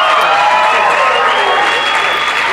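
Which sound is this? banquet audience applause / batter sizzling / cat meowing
banquet audience applause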